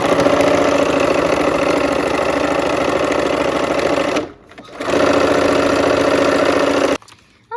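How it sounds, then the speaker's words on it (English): Sewing machine stitching together two fabric sail pieces, a steady loud mechanical whir running continuously, pausing briefly in the middle before resuming, then stopping near the end. "let's go ahead and sew"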